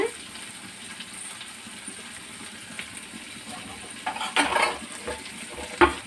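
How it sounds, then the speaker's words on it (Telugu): Ivy gourd and coconut fry in a pan with a low, steady sizzle, interrupted near the end by a few louder stirring scrapes and utensil clinks against the metal; no one speaks. "ఫ్రై చేసుకుందాం, ఉడికించుకుందాం."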